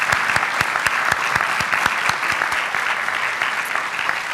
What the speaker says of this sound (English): So can we give her one more round of applause?